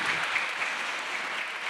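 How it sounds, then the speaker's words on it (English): Steady applause from a conference audience at a UNESCO campus event on women and climate change, a dense, even wash of many hands clapping throughout with no voices on top. "Je vous demande de l'applaudir"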